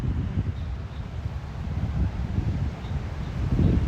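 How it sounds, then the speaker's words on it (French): Steady wind gusting across a microphone on a surf beach at Mirissa, Sri Lanka, a continuous low rumbling buffet that swells slightly toward the end, with no talking. "Ah, il y aura peut-être un peu de vent."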